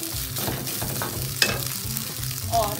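Leftover rice being stirred in a hot pan for egg fried rice, low scraping and rustling over a mild sizzle, with one sharp clink of utensil on metal midway; no voices.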